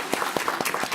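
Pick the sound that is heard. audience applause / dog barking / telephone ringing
audience applause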